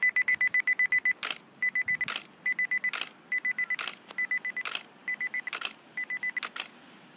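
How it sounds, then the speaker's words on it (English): A Nikon D800 camera shooting in timer mode fires its shutter in rapid, evenly spaced bursts of sharp mechanical clicks, grouped into runs separated by brief pauses and louder clacks, close and clear with no talking. "when I take my photo, what happens is it'll pause 2 seconds and then it will take all the photos."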